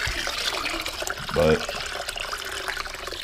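Water pours into a container for rinsing silver plate, a soft continuous splashing and trickle with a brief louder gush midway, a voice speaking faintly over it.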